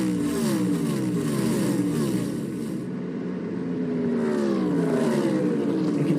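NASCAR stock cars at the Ally 400 roar past at high revs, engine pitch sweeping down as drivers lift off the gas, then climbing again as the loud pack keeps racing.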